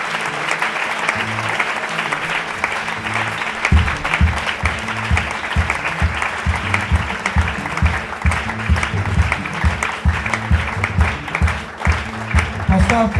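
Church congregation applauding and cheering during a sermon by a pastor, a dense continuous crowd clapping with rhythmic beats joining after a few seconds, loud and sustained throughout.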